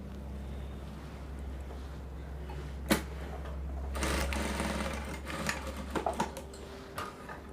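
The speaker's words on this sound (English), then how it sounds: "go to the sewing machine, and then you're going to stitch here, the bottom part of the pocket" A sewing machine stitches across the bottom of an outside pocket with facing, a steady low mechanical hum running throughout with a few sharper clicks and taps from handling the fabric near the end, no talking.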